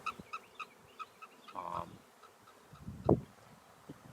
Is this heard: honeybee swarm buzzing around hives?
yes